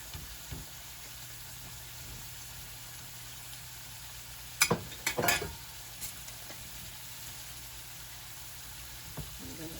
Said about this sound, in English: Let those fry up just a little bit more.